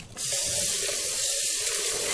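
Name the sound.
soapy water poured over Vitamix blender lid, rinsing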